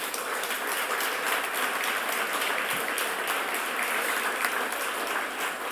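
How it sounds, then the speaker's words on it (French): Applause from a gala audience at the Uashteshiu 2024 event, a steady, dense wash of many hands clapping at moderate volume throughout, with no talking over it. "ça mérite une bonne main d'applaudissements"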